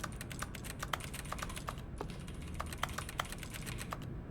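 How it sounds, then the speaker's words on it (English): Grabbing the bucket in The Stanley Parable: Ultra Deluxe produces rapid, steady computer keyboard typing, a dense run of close clacking keystrokes heard alone without any talking. "Why does the bucket sound like a keyboard?"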